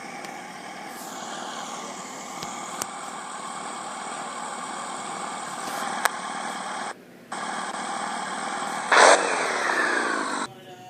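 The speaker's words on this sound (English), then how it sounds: "Gentlemen, start your engines!" NASCAR Xfinity Series race car engines at Iowa fire up and settle into a loud, steady droning idle with several engines layered together, brief cuts and a surge of revving near the end.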